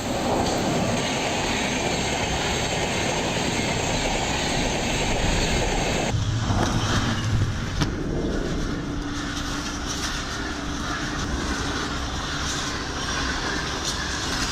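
A fast train rushes past at a railway crossing, a loud continuous roar and rumble of rolling wagons that shifts character midway as the cars keep streaming by.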